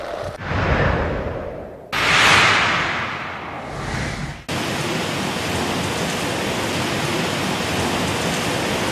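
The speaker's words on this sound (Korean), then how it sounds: "현재 여기 신포지대는 이렇게 세찬 바람과 함께 많은 양의 비가 내리고 있습니다" Heavy typhoon rain lashes Sinpo, North Korea, with strong gusting wind, first in uneven roaring bursts and then as a dense, steady loud hiss of downpour that fills the rest of the clip.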